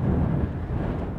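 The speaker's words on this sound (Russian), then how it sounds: "На море волны. Ветер дует." Strong wind buffets the microphone in low, rumbling gusts, a continuous roar by the Black Sea at Vityazevo, Anapa, with waves and no voices.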